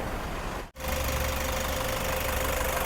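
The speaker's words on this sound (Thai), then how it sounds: "เราสตาร์ทเครื่องยนต์อยู่ค่ะ ฟังเสียงได้เลยนะคะ เครื่องนี้เครื่องแน่นมาก" Toyota Commuter 3.0 diesel van from 2017 idling with the engine bay open, a steady close knocking diesel rumble broken by one brief dropout.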